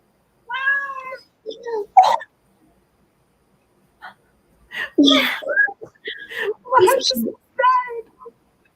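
A pet cat meows several times in short, clear bursts near the listener, with gaps of silence between them and some other brief vocal sounds mixed in.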